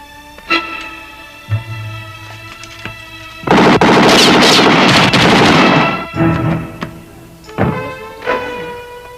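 Gunfire in an action movie, with scattered single shots followed by a loud sustained burst of rapid automatic fire lasting a few seconds, then more isolated shots trailing off under a tonal musical score.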